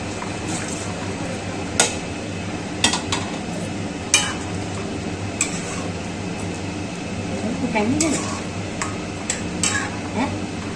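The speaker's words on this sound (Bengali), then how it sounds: "এবার মাছগুলো দিয়ে দেবো সব" Ritha fish go into a pot of simmering potato gravy: scattered clinks and knocks of utensils against the pot over a steady cooking hiss, with a voice talking faintly in the background.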